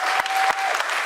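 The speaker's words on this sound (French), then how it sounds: "je vous demande d'applaudir cette association" Applause from the audience at a political campaign meeting, honoring a local association, a brief burst of crowd clapping with a few sharper individual claps and a faint tone running underneath.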